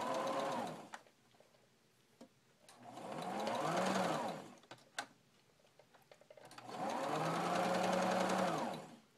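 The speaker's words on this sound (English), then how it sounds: "I'm just going to do a straight stitch across." A sewing machine runs a straight stitch across a fabric tea bag casing in three sustained bursts with short quiet pauses between them, close and fairly loud, with faint clicks of handling in the gaps.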